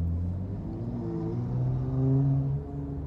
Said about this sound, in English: You're important with your loud car.